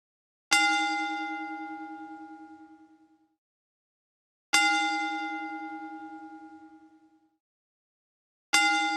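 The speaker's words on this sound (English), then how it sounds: "We will honor his life with a 10-bell salute starting now." A wrestling ring bell tolls slowly during a ten-bell salute, three clear metallic strikes about four seconds apart, each ringing out and fading before the next, alone in silence.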